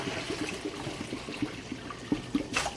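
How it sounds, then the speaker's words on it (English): Wool yarn being rinsed in slightly warm water, a steady soft trickle and slosh of water with small irregular splashes and drips, close and continuous with no talk. "It's time to rinse out our yarn."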